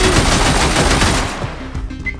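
Rapid bursts of gunfire from the video game Receiver strike the player, a loud dense volley of overlapping shots that tails off into quieter scattered reports.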